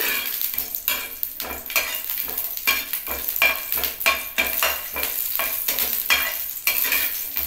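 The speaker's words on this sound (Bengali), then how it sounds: "প্রথমে বড়িটাকে একটু ভেজে নিচ্ছি।" Masoor dal bori (lentil dumplings) fry in oil with a lively sizzle, punctuated by repeated scraping and clattering strokes of a spatula against the pan at an irregular rhythm.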